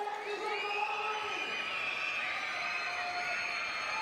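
A women's basketball arena crowd (WNBL, Bendigo Spirit home game) cheers in a sustained roar of voices and shouting, loud and continuous with no break.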